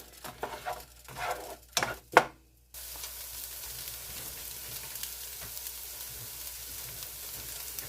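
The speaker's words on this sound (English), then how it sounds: "we're just going to get these sauteed up" Vegetables sautéing in a pan for a beef tips and noodles dish: a few clattering stirs and scrapes, then a steady, even sizzle that keeps going without pause.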